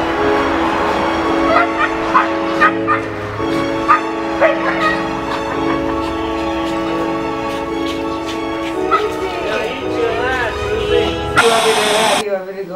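A dog barks and yips in short bursts, mixed under voices and background music, with occasional whimpering tones between the louder yaps.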